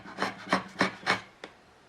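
A kiwa-kanna edge plane shaves a wooden tenon along the grain in four even, rasping strokes, close and clear, followed by a short lighter scrape, with no talking.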